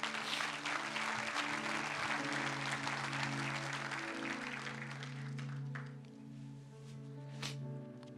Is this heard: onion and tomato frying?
no